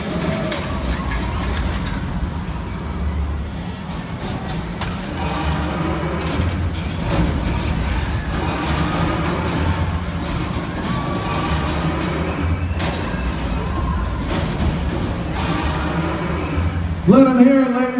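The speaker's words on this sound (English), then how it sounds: "Megasaurus tore that car in half" Megasaurus, a dinosaur-shaped monster truck at a Monster Jam show, rips a car in half with grinding, creaking metal and heavy mechanical rumble, loud and continuous under arena noise and voices, ending in a sharp screech.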